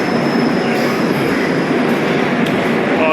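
Loud, continuous rumble of a train close by at a station, a dense mechanical roar with a faint high whine running through it.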